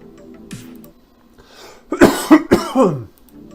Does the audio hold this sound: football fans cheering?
no